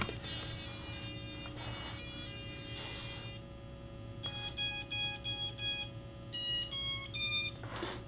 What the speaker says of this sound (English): So that little Star Wars startup tone, I just flashed the ESCs